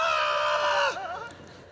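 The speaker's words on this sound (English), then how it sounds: "you hear that scream" A person lets out a long, loud scream as a self-driving car drives itself with no hands on the wheel. The cry is sustained at a high pitch for close to a second, then wavers and trails off.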